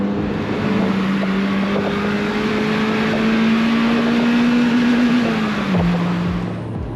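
A BMW E30 M3 driving, a steady engine drone with a clear tone that rises slowly and then drops as if shifting, over constant wind and road rush from inside or close to the car.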